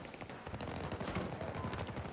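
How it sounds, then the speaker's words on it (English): Sustained gunfire in Battlefield 2042, dense rapid automatic bursts with overlapping shots close by, continuous and loud for the whole stretch. "I'm being shot from the right."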